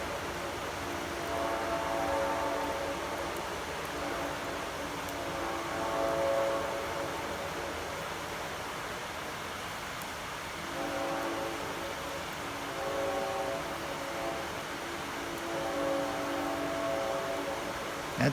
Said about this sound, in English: That train makes a racket.